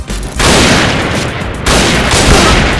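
Loud gunfire from a PSG 90 sniper rifle in a video game, heard as two heavy blasts each followed by a long, sustained roar that fills the short clip.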